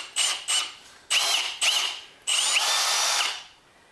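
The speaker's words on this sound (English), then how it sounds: "I'm going to carve the head down using the grinder until it just fits in nice and snug" Power grinder cutting down a steel bolt head to fit snugly, in five loud bursts, the last one long, each a bright high whine with a gritty edge, close by with no talking.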